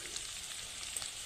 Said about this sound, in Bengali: তেলে প্রথমেই দিয়ে দেব রসুন বাটা।